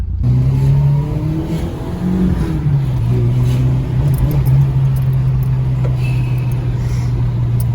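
A Peugeot 309 GTI engine hums steadily nearby, rising and falling with a couple of revs, heard from inside the car.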